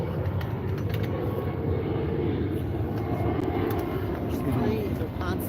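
Airplanes passing overhead at an outdoor press gathering, a continuous broad engine roar that holds steady throughout with a faint voice or two underneath.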